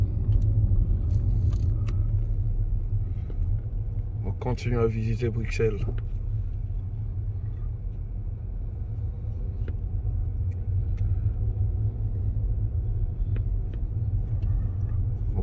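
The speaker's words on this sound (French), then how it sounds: "les trams et les voitures se côtoient" Trams and cars passing on a Brussels street form a steady, loud low rumble of traffic throughout, with a person speaking briefly over it near the middle.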